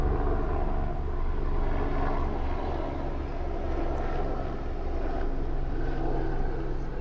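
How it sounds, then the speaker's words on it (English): Steady low rotor-like drone of an aircraft passing overhead, continuous and fairly loud throughout with no voices. "Sorry about that if you can hear the helicopter overhead."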